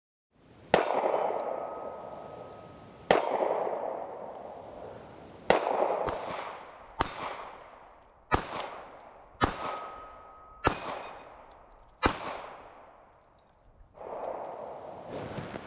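A Kimber Micro Raptor .380 pistol fires about eight sharp shots at an outdoor range, evenly spaced a second or two apart, each a loud crack with a long ringing echo decaying behind it, no talk over them.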